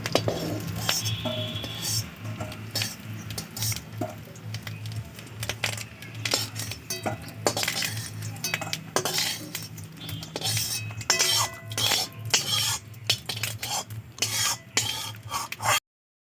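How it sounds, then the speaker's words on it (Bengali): Fried fish roe is lifted out of a frying pan, with repeated metallic clinks and scrapes of a utensil against the pan over a low kitchen background, close and irregular throughout. "দেখুন লাল লাল করে এবার তুলে নিচ্ছি"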